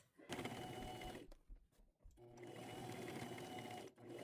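Sewing machine top stitching a seam on a tunic made from an old top, running in steady close rhythmic bursts with a brief pause midway.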